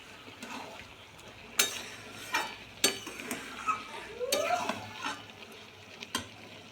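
A vegetable curry of banana blossom and potato is stirred in a pan, with soft scraping strokes and sharp spoon knocks against the pan over a faint sizzle.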